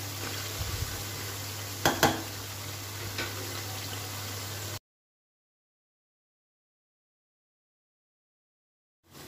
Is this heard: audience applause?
no